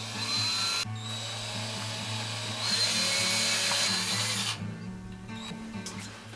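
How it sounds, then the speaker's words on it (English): A power tool, likely a drill or nut driver, whirs steadily while hose clamps are tightened on a reflux still, in sustained bursts that stop and restart, close and loud, with no talking. "take all the hose clamps and tighten them firmly into place"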